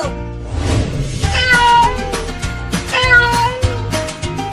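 Cartoonish cat meows repeat over a busy, bouncy musical backdrop, loud and close, with little other voice, from a Hindi cartoon cat-and-mouse chase.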